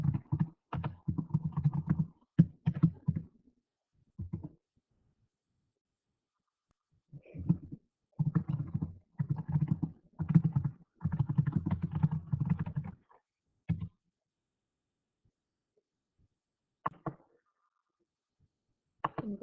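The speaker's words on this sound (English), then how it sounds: "I'm going to type my question" Bursts of typing on a computer keyboard as a quiz question is entered, with clustered runs of clicks separated by silent pauses and a few isolated taps, heard close with no speech.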